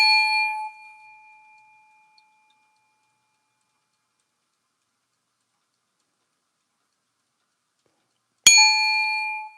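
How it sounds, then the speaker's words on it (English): A bell struck once at the end, a bright ringing tone with clear overtones, after the decaying ring of an earlier strike fades into near silence; loud, close and alone without talk. "I love the sound of the bell, so I do it."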